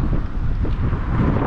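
Strong wind buffets the microphone outdoors on a cold day, a loud continuous low roar with gusty swells and no speech.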